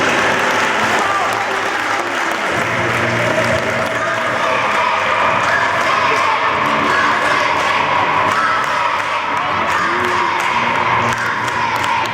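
Sustained loud applause from a crowd for the teams at a youth football tournament's closing ceremony, dense continuous clapping with some scattered cheers and voices mixed in throughout.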